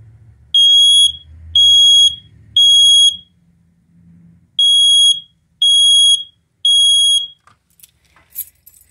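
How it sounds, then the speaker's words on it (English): A smoke alarm sounds two sets of three loud, piercing beeps, with a pause between the sets, then faint rustling and clicks. "Here's the smoke detector."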